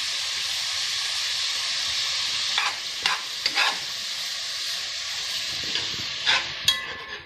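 Carrots fry with tomato paste in a pan for a meatball gravy, giving a steady sizzling hiss with a few scraping stirs near the end and no talk.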